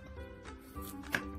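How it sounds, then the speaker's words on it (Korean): Knife slicing carrot very thinly on a cutting board while making tofu keto kimbap, a few quick soft chops close by with one sharper cut near the end, no talking. "당근은 아주 얇게 썰어주세요."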